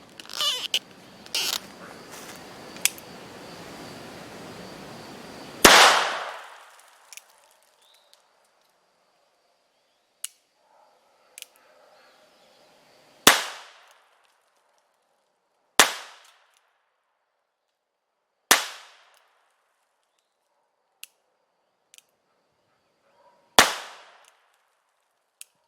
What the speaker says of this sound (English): let's go ahead and shoot these final 5.